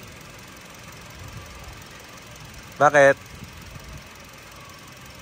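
A stock 1.3-litre car engine idles very quietly, a faint, low, steady hum running throughout, briefly interrupted by a short spoken word.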